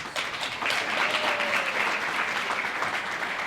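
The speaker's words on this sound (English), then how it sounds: "Give them a round of applause." An audience at an awards ceremony gives a round of applause for sponsors, a thick, sustained wash of clapping that swells after a brief start and holds steady.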